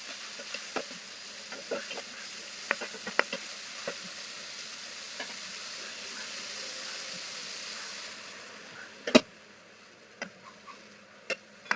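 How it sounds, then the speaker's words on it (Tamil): Beaten egg sizzles in a hot pan for a cheese and vegetable loaded omelette breakfast, a steady close hiss with scattered pops and crackles that fades near the end. "இப்போ நம்ம எடுத்து வச்சுருக்க முட்டையை ஊற்றுங்க"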